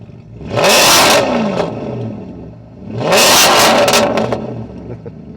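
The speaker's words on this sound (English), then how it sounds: "while it's still in neutral, I'll just give it a blip." A 2006 Maserati Quattroporte 4.2 in neutral is given two sharp revs, each engine surge rising and falling back toward idle, loud and close with no talking.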